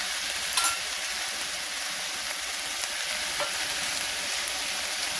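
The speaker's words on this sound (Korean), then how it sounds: "그럼 여기에 물을 부어주세요." Water is poured into a hot pot of chicken coated in garlic and soy sauce, producing a steady, loud hiss and sizzle throughout, with a couple of faint clinks and no talking.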